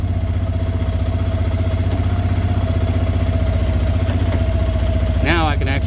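A Vitacci Terminator motorcycle engine idling while warming up, after an idle adjustment, runs as a loud, steady, close-up throbbing putter. A voice briefly cuts in near the end.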